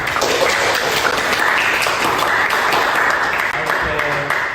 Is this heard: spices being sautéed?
no